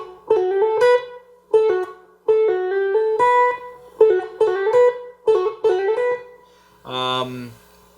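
Electric guitar lick in an outside chromatic style, played alone as clean single notes with quick pull-offs and hammer-ons in short phrases, with a brief strummed chord near the end.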